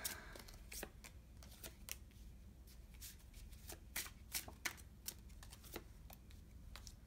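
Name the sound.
tarot cards being shuffled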